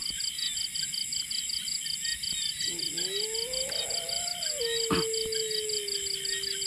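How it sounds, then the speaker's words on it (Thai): A dog howls at night beside a fishing spot: a single long, wavering howl that rises, holds, then settles lower, heard at moderate distance over a steady drone of crickets and insects. "เสียงหมาหอน"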